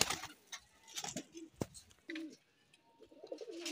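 A pigeon coos in short repeated phrases, fairly close, among other birds at a pigeon sale fair, with brief clatter and a few soft sounds between calls.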